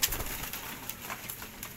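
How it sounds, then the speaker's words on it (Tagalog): Pigeons cooing softly at close range, a few brief low murmurs over a faint background hiss, with no voices. "nagaganda ang mga kalapati natin guys"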